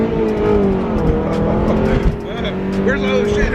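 A Toyota MR2 with a 5-speed gearbox accelerates hard, its engine droning and rising steadily from inside the cabin, with shifting pitch sweeps.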